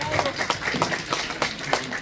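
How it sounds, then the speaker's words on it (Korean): Audience clapping at a poetry recital concert, a brief ragged patter of hands with voices mixed in underneath. "아낌없는 박수 부탁드립니다."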